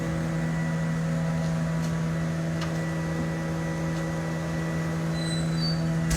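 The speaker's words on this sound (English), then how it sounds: "The oven, it's called an annealing oven, and the annealing oven cools the piece off" A glass annealing oven runs with a constant, even mechanical hum and a low steady drone, unchanging and without breaks.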